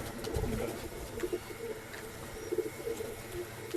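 Pigeons coo softly at a Bangalore breeding and sales loft, several low, rounded coos repeating in short bursts close by over a steady background hum, with no talking.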